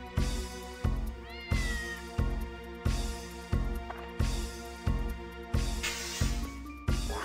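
A stray cat meows in the video game Dark Cloud, its short rising cries set over loud, steadily pulsing game music with a beat just under once per second.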